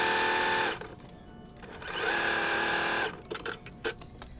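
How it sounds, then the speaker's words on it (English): A sewing machine stitches a quarter-inch seam through quilting fabric in two close, steady whirring runs, stopping briefly between them, followed by a few small clicks and handling noises. "I'm going to sew 1/4 inch on each side of the line"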